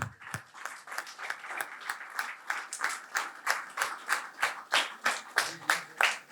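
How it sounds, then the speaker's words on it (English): An audience at a painting competition prize distribution claps in a rhythmic, evenly spaced pattern, roughly two to three beats per second, moderately loud and without other sound. "Can we clap a little louder?"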